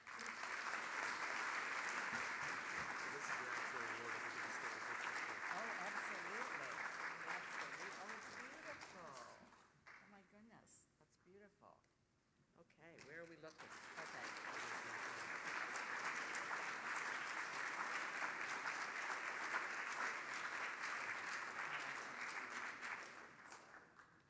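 A large audience at a celebration event applauds loudly and steadily, dips into a brief lull with a voice heard, then swells back into sustained clapping.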